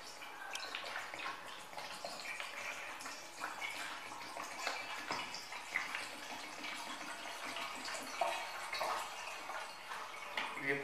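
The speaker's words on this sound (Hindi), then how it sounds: "अब हम इसमें पानी डालते हैं" Water pours from a one-litre bottle into the five-litre water tank of a fogging machine used for hospitals and clinics, making a steady, close splashing trickle that runs continuously with no talk.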